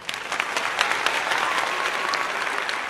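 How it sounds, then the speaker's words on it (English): Rousing audience applause welcoming BOXABL CEO Paolo Tiramani onstage, dense and steady clapping that fills the room throughout. "applause"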